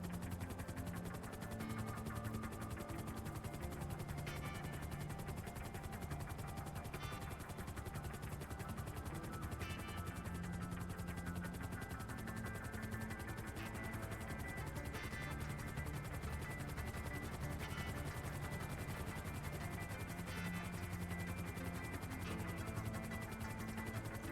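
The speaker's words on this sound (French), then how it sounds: "là je suis en hélico donc je peux pas t'aider" Helicopter flying in a GTA roleplay game, a constant rotor drone with rhythmic chopping, steady and loud-level throughout with no talk.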